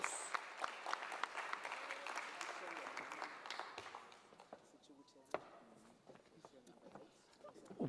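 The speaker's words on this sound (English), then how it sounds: "Can we give them a round of applause?" Applause for winners at a mayoral matric excellence awards ceremony, scattered claps that start fairly strong and thin out midway, with voices talking over it.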